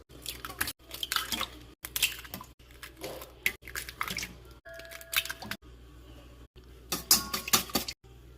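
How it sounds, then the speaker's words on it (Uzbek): Eggs whisked with salt in a bowl give short bursts of wet, squishy clatter, separated by brief pauses and heard up close, with no talking. "Tuxumni chaqib, aralashtirib olamiz, tuz solib."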